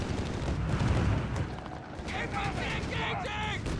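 Company of Heroes 3 battle with BAR and M1 Garand rifles: dense low rumbling gunfire and explosions at first, then lighter scattered shots, with a voice talking over the fighting.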